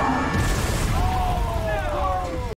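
A staged fake meteor drops onto a car and lands with a loud, booming crash that fills the short moment, followed by fading rumble and crackle.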